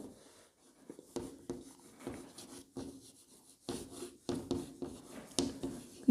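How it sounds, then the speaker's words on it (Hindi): Writing strokes on a board during a class 12 physics lesson on capacitors: a series of close, scratchy rubbing strokes in uneven bursts with short pauses, fairly quiet, with no talking. "तो इसको हम लिखेंगे बहुत ही अच्छे से"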